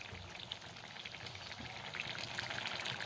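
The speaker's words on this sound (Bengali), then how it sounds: "সব শেষে আমি একটু কাঁচা সর্ষের তেল ওপর থেকে ছড়িয়ে দেব" Raw mustard oil drizzled from above over a thin fish curry with potatoes and mourola fish, giving a steady soft sizzling patter that holds for about three seconds at moderate level, with no voices.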